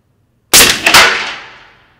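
A Umarex Hammer air rifle fires at full power, one sharp, loud crack that rings out and decays quickly, with a second report following close behind.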